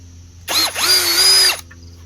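A DCK 20V cordless impact hammer drill runs with a bit for about a second, a loud whirring motor with a brief dip as it revs back up, then stops.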